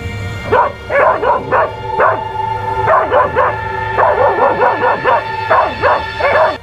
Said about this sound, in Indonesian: ada seekor anjing hitam besar terus menggonggong ke arah mereka